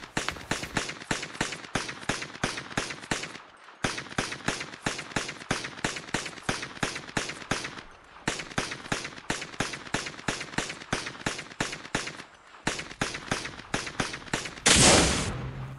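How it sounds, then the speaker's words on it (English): A pistol fires in the MadOut2 BCO video game in long rapid strings of sharp, evenly spaced shots, broken by brief pauses that sound like reloads, ending in a louder noisy burst. "now for the shooting test. Let's start with the pistol."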